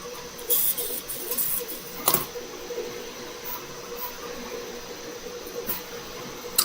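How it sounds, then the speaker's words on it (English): A 3D printer runs indoors with a steady mechanical whir and hum, broken by a few brief sharper bursts of motor noise, moderately loud and alone without talk. "If you hear that noise in the background, I'm running this 3D printer"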